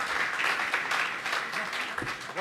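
Audience clapping at a Holi hasya kavi sammelan, a comic poetry gathering, fills the moment with dense, steady applause from start to finish, with no voices on top.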